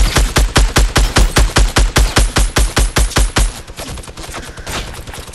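Fortnite video game gunfire: a rapid burst of about sixteen loud, evenly spaced automatic shots, then noisy game ambience with faint scattered sounds as the firing stops.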